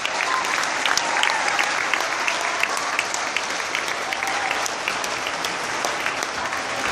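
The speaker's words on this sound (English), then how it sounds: "how about a round of applause for Mrs. Lucy Clark" Applause from an audience honoring a helper at a community event: continuous, evenly textured clapping from many hands at moderate distance, sustained without a break for the whole stretch.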